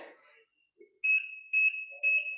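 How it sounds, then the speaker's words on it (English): A liquid level indicator set in a cup of water gives three short, high electronic beeps in an even rhythm, close and clear in a quiet room after a brief faint rustle. "you can hear the beep. That let me know that is the level perfect"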